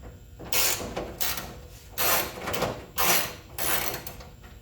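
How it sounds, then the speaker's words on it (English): Bolts on a tailgate lock mechanism being worked loose with a tool, heard as repeated bursts of ratcheting, metallic clicking and scraping, close and fairly loud, with short pauses between strokes. "Get these lock mechanism bolts out."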